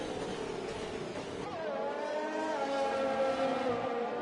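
Onboard engine of a Ferrari race car at Silverstone in a racing video game: a steady high-pitched whine that drops as the car lifts, then climbs again through the gears, with nothing else heard.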